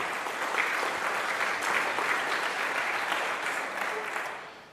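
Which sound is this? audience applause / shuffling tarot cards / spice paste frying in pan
audience applause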